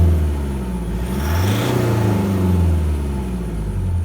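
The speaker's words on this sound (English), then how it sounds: "Let's have a quick listen to the engine." A car engine with a light rattle on acceleration, heard idling and then revving up and back down once, a loud, close, rumbling rise and fall with no talk.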